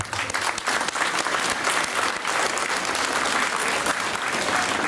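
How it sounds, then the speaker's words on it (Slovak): Loud, sustained applause from a school audience welcoming ninth graders at the opening of the school year, a dense steady clapping that fills the whole stretch without a break. "Takže aj ich privítajme ešte veľkým potleskom."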